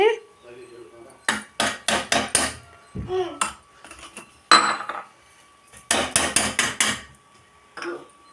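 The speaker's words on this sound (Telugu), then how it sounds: "తిప్పుతున్నానండి ఇదంతా బాగా దగ్గరకు వచ్చేలాగా మనం తిప్పుకోవాలి" A metal spoon clatters and scrapes against a pan while rava kesari is stirred with sugar. Quick bursts of clinking taps come in short groups with pauses between them, loud and close.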